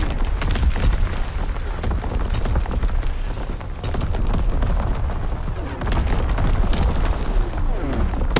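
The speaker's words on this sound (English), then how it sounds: "Sending mortar rounds." Mortar rounds exploding in Call of Duty WW2 make a steady, loud barrage of booms and blasts that runs through the whole stretch with no break, while distant gunfire crackles underneath.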